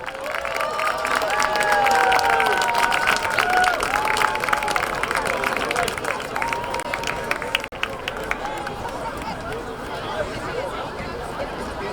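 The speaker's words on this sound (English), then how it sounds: "A big round of applause for everyone here today from Somerville Youth Soccer." Spectators at a high school boys' soccer match, Somerville versus Revere, with broad crowd noise and scattered clapping sustained for about twelve seconds; chatter and shouts mix through a steady, dense wash of sound.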